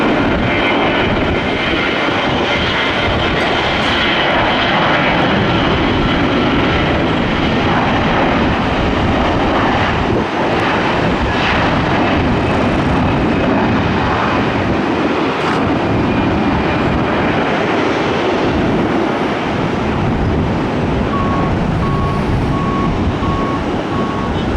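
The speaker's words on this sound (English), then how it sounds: "Another A321, not the Neo on this one." Airbus A321 airliner (not the neo variant) at an airport, its engines giving a loud, steady broadband roar that holds throughout, with a faint tonal beep appearing near the end.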